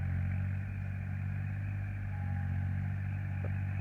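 A farm tractor engine runs at a steady idle, a deep continuous low rumble with even harmonic drone, close and unchanging throughout.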